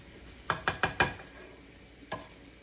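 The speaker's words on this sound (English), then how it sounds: "am going to stir it very well so that it makes sure it gets all over" A spoon stirs tofu through simmering sauce in a pot, giving four quick scraping strokes in a row and then a single later one over a soft bubbling background.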